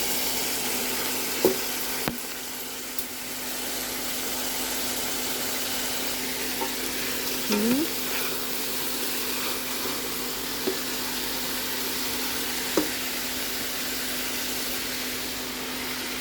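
Green beans frying in a pan with garlic, giving a steady, even sizzle that holds throughout, with a few soft, sparse stirring knocks against the pan, close by.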